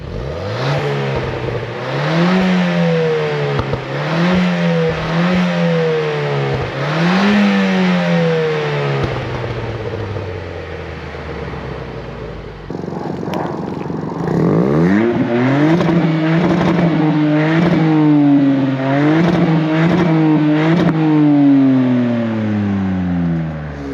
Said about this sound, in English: we're also just going to do a little rev of the exhaust